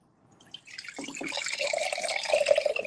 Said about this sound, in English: I'm getting water. See? I'm in the kitchen.